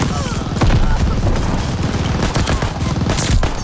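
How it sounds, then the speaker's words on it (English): Machine gun fire from an MG in the video game Call of Duty Vanguard, loud and close, pouring out in a dense, continuous stream of rapid shots for the whole stretch. "He has an MG and he's just dumping a clip on me."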